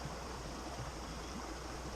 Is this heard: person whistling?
no